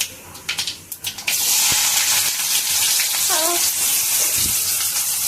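Onions hit hot oil in a pan and sizzle loudly and steadily after a few brief clatters at the start, with a faint stir, alongside garlic and curry leaves in a chickpea dumpling curry.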